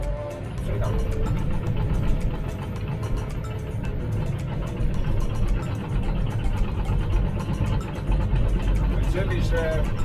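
A Komatsu D51-24PXI bulldozer with automatic transmission is put in gear and drives off while stripping topsoil, its diesel engine a steady, loud low rumble throughout, with faint clanks and squeaks over the top.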